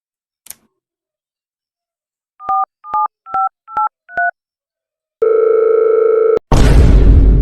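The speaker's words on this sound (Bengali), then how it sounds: "আজকে দিয়ে একটা ফোন দিই।" A telephone being dialed, with five short two-tone keypad beeps in a steady rhythm, followed by a sustained dial tone and then a burst of noise, all close and loud with no talking.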